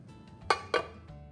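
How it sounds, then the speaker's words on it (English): A plate set down and flipped over onto a tray of cooled lemon coconut bars, giving two close, sharp ceramic clinks about a quarter second apart over a quiet room. "you're going to take another plate and you're just going to flip it onto it"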